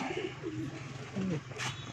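A pigeon on a rooftop loft coos in soft, rising-and-falling phrases at close range, fairly quiet, with a brief rustle near the end.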